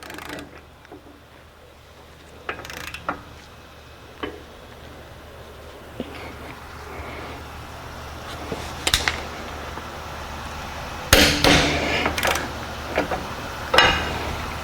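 On an Acura MDX during a rear wheel bearing job, a torque wrench on the rear axle nut set to 181 foot-pounds gives scattered sharp metallic clicks and ratcheting ticks, sharpest and most frequent toward the end.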